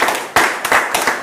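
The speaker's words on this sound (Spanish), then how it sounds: "Otro aplauso más" Short burst of clapping from a small group at a municipal council session in Villa Ángela, marking a donation of items to a centre; the claps come in a few uneven waves, close and fairly loud.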